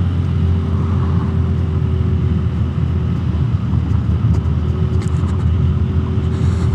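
A Lambretta scooter rolls over a cobblestone road, its engine holding a steady, loud low rumble with a constant drone, and the rough surface adds a continuous bumpy texture throughout with no talking.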